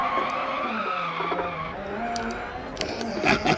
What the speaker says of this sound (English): You hear that burble in the background.